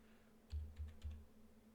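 Three quick keystrokes tap out on a computer keyboard at a Kali Linux terminal, soft and close, over a faint steady electrical hum.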